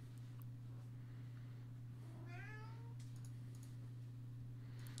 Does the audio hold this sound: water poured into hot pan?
no